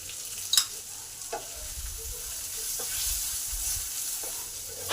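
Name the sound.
onions with salt frying and being stirred in pan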